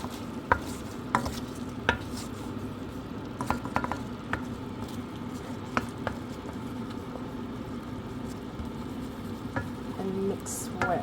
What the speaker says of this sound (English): Now we're gonna saute all of this until fragrant.